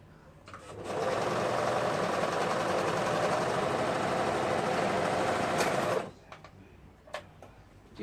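A sewing machine stitches a sweater in one continuous run of about five seconds. The rapid, even mechanical chatter is close and steady, followed by a few light clicks after it stops.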